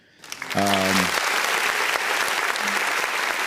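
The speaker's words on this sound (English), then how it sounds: "Let's get some applause again." A crowd breaks into steady, sustained applause that fills the whole stretch, with a brief voice heard as it begins.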